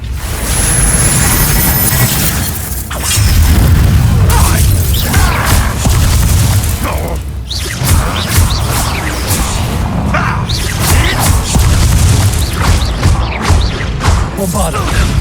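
A Bombarda blasting spell in the PC video game Hogwarts Legacy sets off repeated heavy booms and crashing impacts, mixed with whooshing swishes and mechanical clatter.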